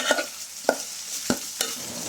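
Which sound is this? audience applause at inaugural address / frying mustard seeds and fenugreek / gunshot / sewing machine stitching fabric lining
frying mustard seeds and fenugreek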